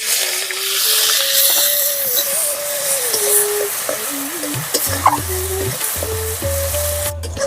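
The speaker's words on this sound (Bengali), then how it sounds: "ফোড়ন ভাজা ভাজা হয়ে গেলে দিয়ে দেবো পেঁয়াজ কুচি" Chopped onion goes into hot oil already tempered with dried red chillies, bay leaves and whole cumin. A steady, bright sizzle holds throughout, with a faint tonal sound running underneath and occasional light stirring knocks.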